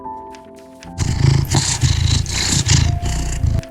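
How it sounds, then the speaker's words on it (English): A cat purrs in a video game, a loud, close, rumbling purr that starts after a short musical lead-in and pulses in steady rhythmic waves. "Just listen to that purr."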